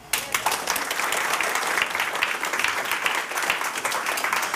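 An audience at a game developer talk applauds for a few seconds, a dense, even burst of many hands clapping at once that holds steady, with a voice faintly heard over it.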